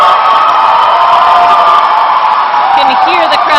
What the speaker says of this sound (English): Can you hear the crowds excited about that one?